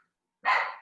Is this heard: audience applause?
no